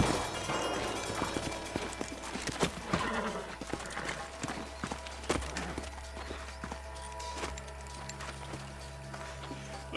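Horses' hooves clip-clop steadily in the Red Dead Redemption video game, a moderately loud walking rhythm with an occasional whinny over a low ambient bed.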